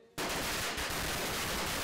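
Firecrackers bursting at a Chinese New Year celebration with lion dances, starting abruptly after a brief quiet moment and then crackling as a dense, rapid string of sharp pops that runs on continuously and loudly.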